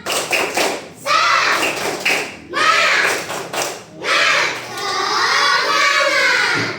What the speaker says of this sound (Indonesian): Nih, sekali lagi dong biar lebih semangat.